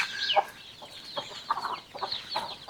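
Chickens on a farm cluck and squawk in short repeated calls, close and moderately loud, over a faint background and with no voices.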